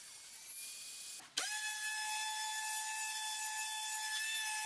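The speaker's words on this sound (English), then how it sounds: "we can run the board through the table saw" Board being fed through a table saw, a steady high whine of the spinning blade with a sudden sharp change as the cut begins, then a sustained, even cutting tone, close and without talk.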